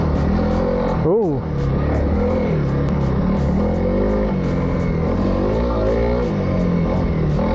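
Honda CRF300L dual-sport motorcycle engine at an off-road park, running unevenly with a steady close drone that surges and dips in pitch, one sharp swoop up and down early on, with a voice speaking over it.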